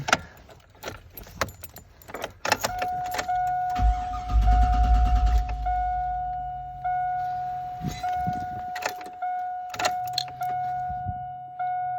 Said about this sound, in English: All right, time to start it up.